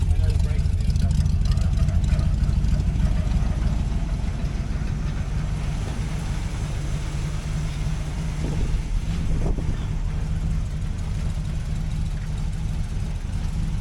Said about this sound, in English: Like this has a truck beefy sound.